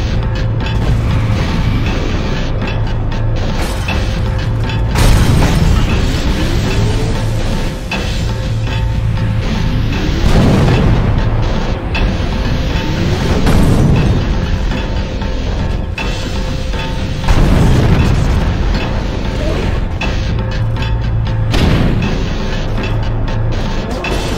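Turrets firing in The Incredible Hulk video game, dense mechanical clatter and repeated booming blasts over a steady, loud game soundscape, continuous for the full stretch with rising and falling whooshes, no talking.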